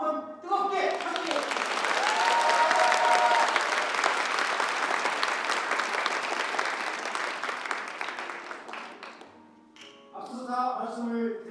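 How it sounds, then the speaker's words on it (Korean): Warm, sustained applause from an audience at a neighborhood redevelopment launch ceremony in Bucheon, building quickly and holding steady for several seconds before tapering off, with talk resuming near the end. "박수로 한번 뜨겁게 함께"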